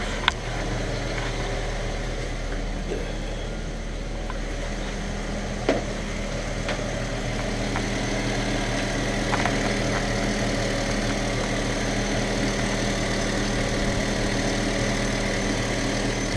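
Ford Mustang engine idling just after a water pump replacement, a steady low hum holding evenly throughout with a couple of faint clicks, no voices.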